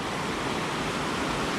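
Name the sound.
stream water rushing down off the fells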